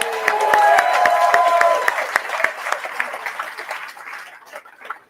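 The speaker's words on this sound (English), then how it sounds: "Can we have another round of applause for that?" Audience at a political launch event in Newcastle claps after a speech, loud dense applause that starts strong and gradually thins and fades toward the end, with a little voice underneath.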